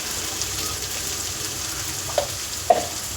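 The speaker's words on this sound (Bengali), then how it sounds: "এই মশলাটাকে খুব ভালো করে কষাতে হবে" Masala is sautéed in a pan with prawns and shola kochu, giving a low, steady sizzle with two brief scrapes of a spoon near the end, quiet and close with no talking.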